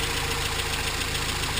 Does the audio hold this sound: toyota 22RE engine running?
yes